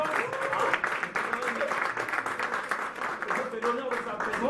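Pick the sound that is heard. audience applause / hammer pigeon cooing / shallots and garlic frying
audience applause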